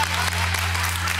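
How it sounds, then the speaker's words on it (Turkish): Studio audience applauding on a Turkish late-night talk show, a steady dense wash of clapping over a low constant hum, filling the short moment without a pause. "Alkışlayın İbrahim Bey"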